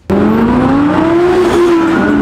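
Two cars accelerate hard in city traffic, a sudden loud engine roar and rising rev with brief tire squeal, close and steady throughout.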